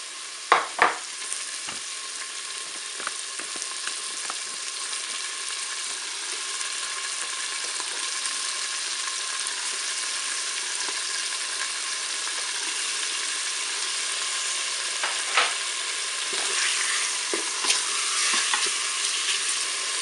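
Filet mignon medallions frying with shallot and parsley in a Cookeo multicooker, a steady close sizzle throughout with occasional clicks and scraping stirs near the start and end, no talk.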